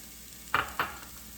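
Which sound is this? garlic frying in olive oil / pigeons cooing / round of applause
garlic frying in olive oil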